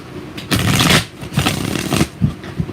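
Tarot cards are riffled and shuffled by hand in several quick, crisp bursts of papery flutter, close and fairly loud, with brief pauses between passes.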